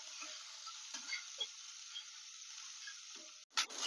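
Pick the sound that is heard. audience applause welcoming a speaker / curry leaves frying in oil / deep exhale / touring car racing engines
curry leaves frying in oil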